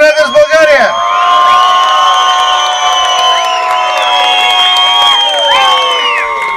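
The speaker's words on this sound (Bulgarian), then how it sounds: "Аплодисменти за Димо Бандита от Райдърс България!" Applause and loud cheering from an outdoor crowd at a Bulgarian biker gathering as Dimo Bandita of Riders Bulgaria is named, with whoops and shouts rising over steady clapping throughout.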